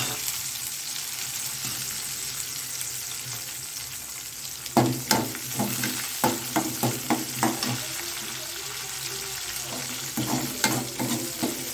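Curry leaves drop into hot oil with popped mustard seeds for an okra tamarind gravy, setting off a quiet sizzle that bursts into a run of sharp crackles and spits midway, close and without speech.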